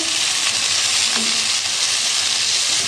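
Tomatoes stirred as they fry in a pan for chicken vegetable macaroni, a steady loud close sizzle with faint spoon scrapes and no talking.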